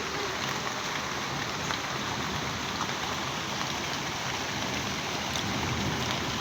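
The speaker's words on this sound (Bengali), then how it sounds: "হালকা পাতলা বৃষ্টি পড়তেছে, বেশি না।" Light rain falls outside a balcony as a soft, steady hiss of drops that stays constant throughout and is heard alone.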